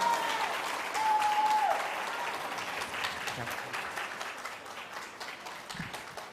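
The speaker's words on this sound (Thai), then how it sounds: "ขอเสียงปรบมือต้อนรับนะครับ คุณจตุพรพรมพันธ์ประธานนปชด้วยครับ" A crowd at a political exhibition opening in Thailand applauds to welcome Jatuporn Prompan, chairman of the UDD. The clapping is dense and sustained, and it eases slightly over time. A brief tonal squeal or whistle rises early on, and faint murmurs sit underneath.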